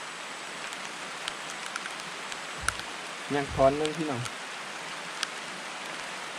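Rain falls as a steady, even hiss outdoors in the forest during wild yam digging, and someone speaks briefly partway through.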